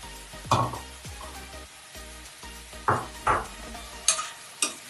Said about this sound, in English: Now we saute the potatoes